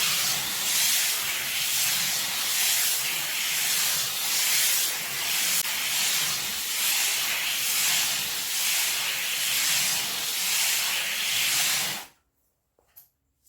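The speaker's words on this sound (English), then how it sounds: "I'm going to use a figure 8 motion to grind the base off evenly" A cast glass sculpture's base is ground in a figure-8 motion, making a loud, steady abrasive hiss that runs unbroken for about twelve seconds and then stops abruptly.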